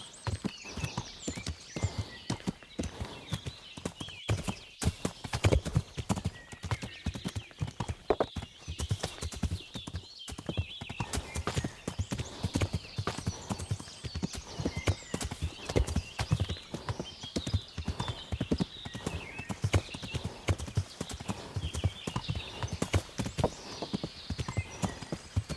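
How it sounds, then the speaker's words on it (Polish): A horse trots in the Kingdom Come: Deliverance video game, steady rapid hoof clip-clops continuing throughout at moderate volume, with occasional snorting breaths and no talk. "Ale się koń zasapał."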